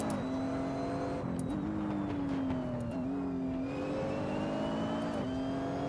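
A GRT GT3 race car engine in a racing video game on the Tail of the Dragon road course revs up and down through gear shifts, a steady moderate howl with rising pitch sweeps and brief drops, no talking.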